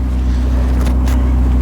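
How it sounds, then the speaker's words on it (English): A Ferrari 488 Spider engine runs loud and close with a steady, throbbing low rumble, and no voices are heard. "let's fire this engine up, take it for a ride"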